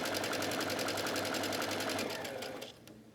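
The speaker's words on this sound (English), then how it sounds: "we're gonna head to the sewing machine and sew it on" A sewing machine running a straight stitch along the edge of interfacing on a tunic, with a fast steady mechanical chatter, close and loud, that slows and stops near the end.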